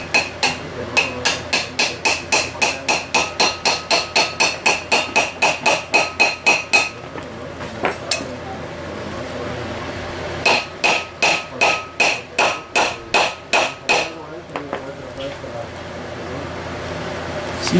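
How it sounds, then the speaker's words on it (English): Steady rapid hammer taps drive a wheel bearing into its housing during a wheel bearing replacement, two long runs of evenly spaced, sharp, close metallic blows separated by a short pause, with faint background noise. "we're just going to tap it in there nice and easy"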